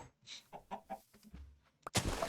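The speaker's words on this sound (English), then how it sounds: "we got another baby chicken" A chicken in a video game gives a few quick clucks close by, followed by a short burst of louder noise at the end.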